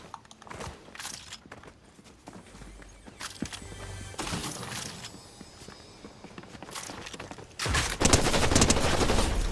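Gunfire in a Fortnite match comes as scattered bursts of shots mixed with in-game footsteps, building into a denser, louder volley near the end.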